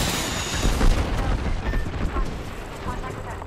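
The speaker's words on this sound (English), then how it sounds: "They're shooting at me." Enemy gunfire in a shooting video game, a few booming shots and blasts, the loudest near the start, over a dense rumbling backdrop with a voice partly mixed in.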